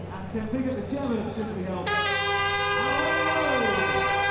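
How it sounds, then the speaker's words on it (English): Air hooters blare at the start of the Great Birmingham 10k elite women's race, a loud sustained multi-tone blast that comes in partway through and holds steady over crowd noise and commentary. "So the hooters go and the crowds cheer."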